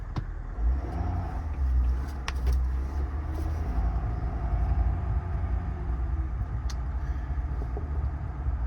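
A 2022 Ford F550 4WD diesel crew-cab service truck with an IMT mechanics bed drives along, its engine a steady, loud low rumble mixed with road noise throughout, with no one talking.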